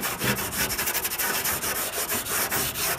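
A Scotch-Brite pad scuffs primer on the fender of a 1979 Chevrolet Caprice, making a loud, close, continuous rasping rub in quick back-and-forth strokes with a steady, even rhythm.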